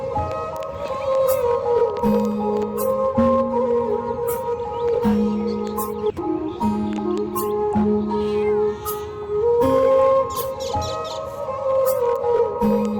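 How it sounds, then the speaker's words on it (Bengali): A cat meowing in a park in Qatar at dawn, with repeated drawn-out cries over roughly thirteen seconds against a busy outdoor background of steady hum and scattered noises. "এই যে আরো একটা বিড়াল"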